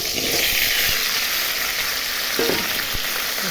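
Okra and stems hitting hot oil in a pan, a loud, dense frying sizzle with a few stirring knocks, close and steady throughout.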